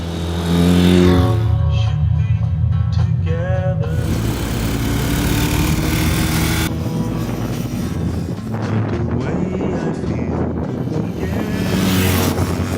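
An adventure motorcycle accelerates across an open dry lake bed, its engine note rising loud and steady, then rising again in fresh pulls with broadband wind and rumble, no talk.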